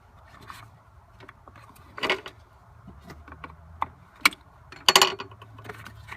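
A flathead screwdriver pries the bottom plate off a 2013 Toyota Tacoma: soft scraping and fiddling, then a few sharp plastic clicks and snaps, with the loudest cluster near the end, close up and without talk.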